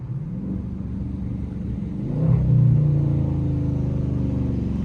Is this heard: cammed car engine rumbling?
yes